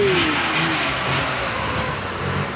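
A classic Porsche with a five-speed gearbox starting and settling into a steady mid-range idle, heard up close and continuous with no talk over it.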